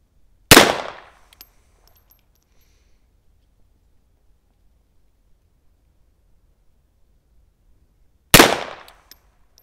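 Two sharp, loud single shots from a FEG PA-63 pistol firing 7.65 mm (.32 ACP) PPU FMJ rounds, spaced about eight seconds apart, each with a short decaying tail and near silence between them.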